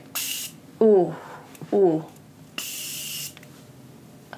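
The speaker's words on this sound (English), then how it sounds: "if you're looking for a good setting spray with a super, super fine mist" Fine-mist makeup setting spray from a pressurized bottle, heard as two separate bursts of hissing spray, the longer one about a second. A voice speaks briefly between them.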